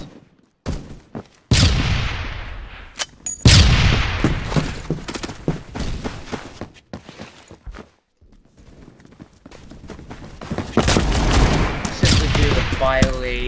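Honey Badger rifle fire in a video game comes in sharp close bursts and single shots with echoing tails, separated by brief quiet gaps and faint clicking movement.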